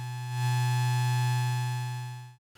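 A plain sustained tone from the Ableton Drift software synthesizer holds steady for over two seconds, swelling slightly at the start before cutting off abruptly into silence, with no other sounds present.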